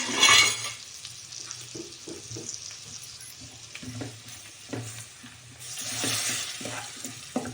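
Spices sizzle and crackle in a hot pan, with stirring scrapes and a brief louder hiss at the start, steady and close throughout.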